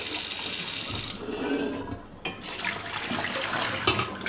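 Tap water runs steadily into a metal pot being rinsed in a kitchen sink, with a brief dip in flow midway before the splashing resumes, close and fairly loud.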